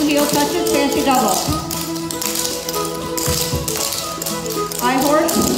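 Tap dance shoes beat out a quick routine of heel touches and a fancy double, sharp metallic taps in rapid clusters, with a voice calling steps over the dancing.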